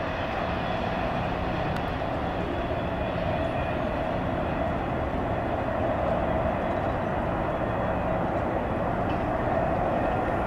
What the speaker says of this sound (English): That train originates in Montreal, Quebec, Canada, heads west all the way to Chicago, Illinois at Schiller Park